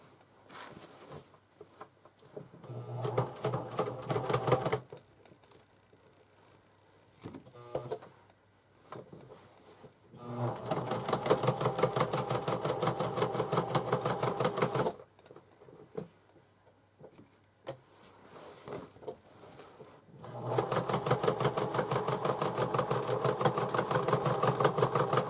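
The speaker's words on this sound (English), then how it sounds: "when I'm sewing the two fabrics together, I'm going to sew the strap down also and give it some extra stitching so that it stays" A sewing machine stitches two fabrics and a bag strap together in several bursts, a rapid close rattling patter that starts and stops with quiet pauses between runs.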